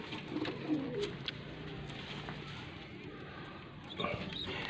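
Racing pigeons coo in soft, low, repeated calls close by, against a faint steady background, with a voice talking over them.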